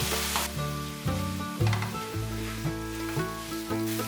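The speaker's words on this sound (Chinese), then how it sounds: "放入红甜椒和雪白菇， 加入2汤匙的水，快速的翻炒" Red bell pepper and white mushrooms stir-fried quickly with two tablespoons of water: a bright, hissing sizzle punctuated by tosses in the pan, set against background music.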